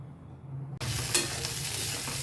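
Vegetables frying in a pan for a prawn and jute leaf chorchori, starting abruptly as a loud close sizzle with scraping stirs after a quiet hum.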